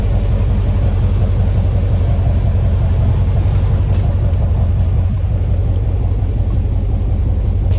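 A deep, loud hot rod engine rumbles continuously at a steady idle, a low throbbing growl close by with no voices.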